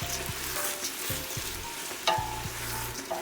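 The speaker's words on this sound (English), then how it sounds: "Now that the onion is sauteed for a few minutes, and then we will cook the rice and the onion for a little." Onion and rice sauté together in a pot for a Guyanese red peas and dried shrimp cook-up, sending out a soft continuous frying hiss broken by occasional spoon scrapes and taps against the pot.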